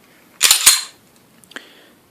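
A firearm fires a bullet: one sharp, close, loud crack with a quick double burst, fading into a short rattling tail and a faint later click.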